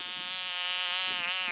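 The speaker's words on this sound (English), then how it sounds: "Frog noises." Tiny frogs give a continuous buzzing, trilling croak that stays steady and fairly loud through the short stretch, with no voices over it.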